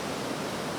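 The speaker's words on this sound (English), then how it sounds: "there's so much water here, it makes a really loud noise" Loud rushing water of tiered mountain waterfalls in early spring in the Swedish mountains, a dense steady roar filling the moment with no break.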